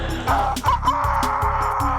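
A voice mimics a rooster's crow in repeated rhythmic bursts over steady background music, loud and close.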